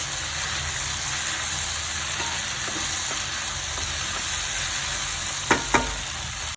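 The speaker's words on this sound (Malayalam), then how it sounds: "എണ്ണ തെളിയുന്ന വരെ ഒന്ന് വഴറ്റിയെടുക്കാം വെണ്ടയ്ക്ക" Okra and tomato sautéing in oil for a Kerala vendakka theeyal: a steady, close sizzle and fry hiss throughout, with a couple of sharp stirring clinks near the end.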